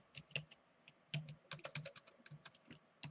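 Quiet, close keystrokes on a computer keyboard come in irregular clusters, quick bursts of taps broken by short pauses, as a password is entered.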